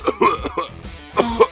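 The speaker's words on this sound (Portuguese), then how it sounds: "o velho começa a tossir" An old man coughs and clears his throat in a few rough, uneven bursts, close and fairly loud, with no other voices.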